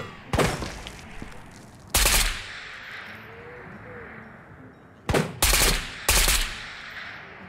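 Gunfire in the video game Ghosts of Tabor, a few short, loud bursts of rapid shots separated by quiet stretches, with faint background ambience between them.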